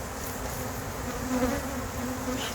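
Honey bees buzz densely at an open hive, a continuous close swarm hum with slight rises in intensity and no voices.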